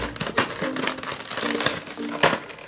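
Plastic packaging of Turning Mecard W Disc Cannon toys crinkles and tears open in close, busy bursts, with short crackling rustles and a few sharper rips.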